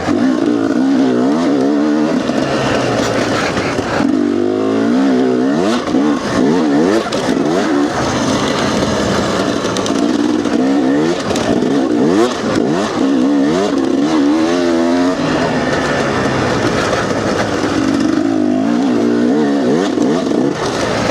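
A KTM XC250 dirt bike engine revs loudly and continuously while being ridden, its pitch repeatedly climbing and falling through throttle changes for the whole stretch, close to the listener.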